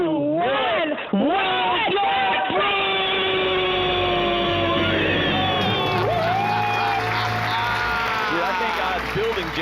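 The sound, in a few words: audience doing a debt-free scream, cheering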